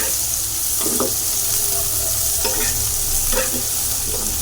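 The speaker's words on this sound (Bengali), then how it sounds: "তো এবার এটা একসাথে ভালো করে নাড়াচাড়া করে নেব" Onions frying in a pan for a village-style Bengali dish, a loud continuous sizzle broken by a few spoon scrapes and stirs at irregular intervals, with no talking.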